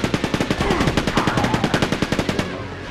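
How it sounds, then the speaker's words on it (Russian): Rapid enemy gunfire in the PlayStation port of Quake 2, a steady burst of evenly spaced loud shots for over two seconds that stops abruptly near the end. "Когда по мне стреляет, мне больно."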